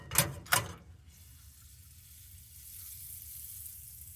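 Butter on a fork heated until it sizzles: two quick, loud bursts of spitting sizzle up close, then a faint, steady hiss that lingers alone.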